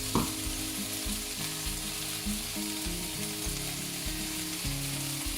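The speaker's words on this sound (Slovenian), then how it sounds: "Med praženjem krompirja dodamo nasekljan korenček." Potatoes fry with chopped carrot for potato goulash, giving a steady, dense sizzle with low bubbling, close and continuous, with no voices.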